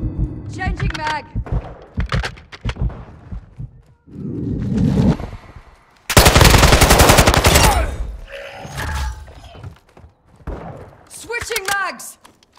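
Bursts of automatic gunfire from Call of Duty: Modern Warfare II, mixed with heavy thuds and sustained loud volleys in the middle, broken up by shouted voice callouts between the shots.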